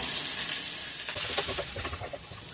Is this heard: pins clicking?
no